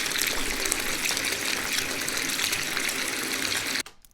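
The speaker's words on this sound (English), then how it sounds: "It's just water running." Steady broadband rush of running water, loud and continuous, cutting off abruptly near the end; a raw water sample loaded into Ableton.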